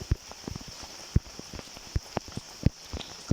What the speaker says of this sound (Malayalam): ഈ മഴ എപ്പോഴാണ് പെയ്യാൻ കണ്ടത്?